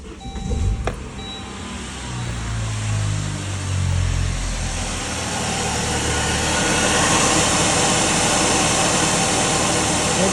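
A Saab 9-3 with the B205E engine is started after a serpentine belt change; a brief starter crank and engine catch give way to a steady, fairly loud idle hum that continues evenly to the end.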